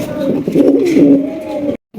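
King pigeons coo in a low, rolling burble that runs steadily and close by, then cuts off abruptly near the end.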